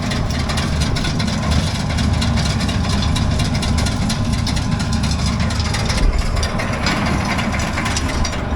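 A rotary tiller's engine runs steadily while it churns garden soil, a loud, continuous low rumble with a rough mechanical texture that barely changes throughout.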